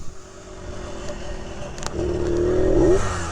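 A 1970 Harley-Davidson M65S motorcycle rides along in second gear, a steady engine drone that swells louder and rises in pitch over the last stretch as it accelerates, with faint rattles on top.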